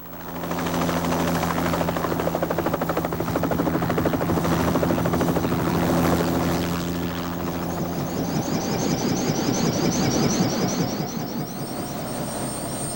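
A private helicopter flies past, a loud, steady rotor thrum and turbine whine that holds strong throughout, then shifts in pitch as it moves off, with no talk.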